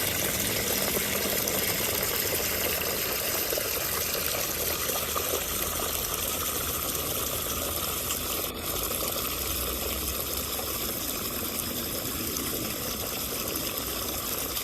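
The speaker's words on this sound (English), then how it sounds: "highlighting the cascading waterfall from the top of his yard" Cascading backyard water feature waterfall running downhill from the top of a yard, a continuous loud rushing and splashing of water that stays steady throughout with no talk.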